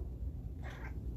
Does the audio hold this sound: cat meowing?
yes